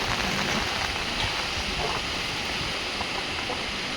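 Heavy monsoon rain pours down steadily on an areca nut plantation, a dense continuous hiss with no pauses and no voices.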